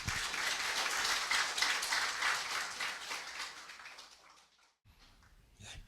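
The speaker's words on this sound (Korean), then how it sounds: "여러분 큰 환영의 박수 부탁을 드립니다" An audience at a Korean humanities lecture forum claps to welcome a professor to the podium, a dense burst of applause that thins and fades over several seconds to near silence before a faint stir of sound.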